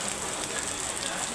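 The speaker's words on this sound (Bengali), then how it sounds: "খালি বৃষ্টি আর বৃষ্টি" Steady rain falls in rural Bangladesh, a brief, even hiss of drops on surfaces with no pauses or voices.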